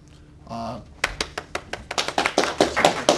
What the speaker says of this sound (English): applause to start